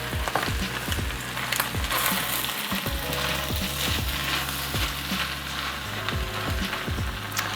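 Cooked food being stirred and folded in a pan on a just-switched-off stove, with a steady soft sizzle and repeated scraping strokes of a utensil at close range, no talking.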